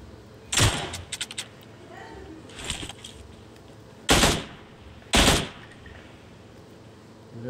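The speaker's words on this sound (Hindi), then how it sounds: "बिना मतलब की गोलियां चलाएगा देखो अभी" Four bursts of gunfire in PUBG Mobile at uneven intervals, two short volleys of rapid shots followed by two louder, sharper blasts, with low background noise between.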